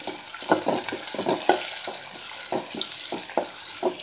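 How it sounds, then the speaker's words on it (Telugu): Onions for thotakura pulusu fry in a pan with a soft, continuous sizzle, broken by regular scraping and stirring strokes about every half second. "ఇవి కూడా బ్రౌన్ కలర్ వచ్చే వరకు వేయించుకున్నామండి"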